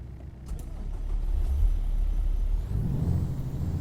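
A Mack Anthem truck engine in American Truck Simulator cranks and rumbles to life, a deep, steady diesel growl that swells toward the end, with no voices.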